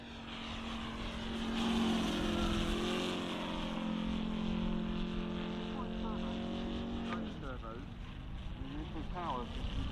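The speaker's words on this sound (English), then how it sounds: "Just listen to the sound of that engine. It's a very heavy plane." A heavy yellow model aircraft passes at a model airshow, its engine droning loud and close with a rising then falling pitch, while a commentator talks over it.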